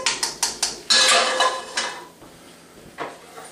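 A spoon knocks and scrapes against a pot of lobster seafood chowder, a quick run of sharp metallic clinks followed by a longer scrape and a few scattered taps, close and fairly loud.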